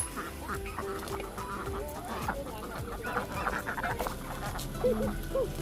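Ducks quack and chickens cluck together in a noisy farmyard, with people chattering in the background.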